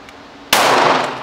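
A pistol shot striking a steel target on a shooting range: one sudden, loud crack with a bright metallic ring that hangs and fades over about a second, after a quiet lead-in.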